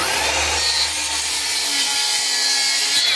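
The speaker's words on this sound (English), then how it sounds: "I just want to kind of cut a ½ inch into this cedar." A Makita 36V LXT power saw cutting half an inch deep into cedar, a loud, continuous close-up whine and rasp of blade through wood, sustained for the whole stretch with no talk.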